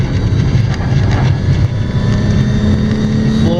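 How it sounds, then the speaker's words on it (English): BMW E28 engine under full throttle during a flat-foot shift from second to third gear, a loud, steady drone close by with a brief dip in pitch and a smooth pickup as revs settle into the next gear, no talking. "I'll give you guys a quick test for the flat foot shifting going from 2 to 3"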